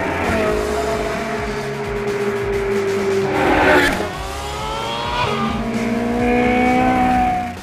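A Ferrari race car driven hard around the Buddh International Circuit, a Formula 1 track, its engine revving loudly and continuously with rising and falling pitch through gear changes, sounding close throughout.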